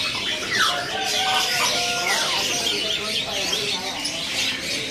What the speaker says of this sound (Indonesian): Di sini ada burung flamboyan bondol.